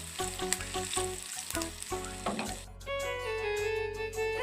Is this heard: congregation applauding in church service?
no